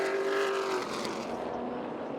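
Super Late Model race cars roar around an oval track, one loud engine note sweeping past close by and fading as the pack continues at speed, with no talk.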